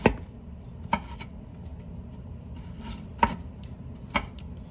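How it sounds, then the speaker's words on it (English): A knife slices an ingredient thin on a cutting board for albondigas soup stock, four sharp separate knocks spaced irregularly over a quiet low background hum, close by and without speech. "this is going to really add flavor to my stock here by slicing this up nice and thin"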